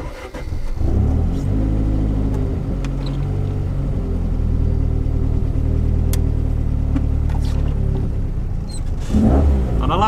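Lancia Delta Integrale rally car engine firing up and revving at a rally stage, a loud rumbling start that settles into a sustained throaty idle with rising revs, ending in a sharp burst near the finish.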